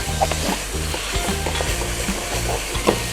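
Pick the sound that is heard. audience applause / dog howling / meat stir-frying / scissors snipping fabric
meat stir-frying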